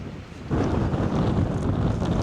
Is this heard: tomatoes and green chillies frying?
no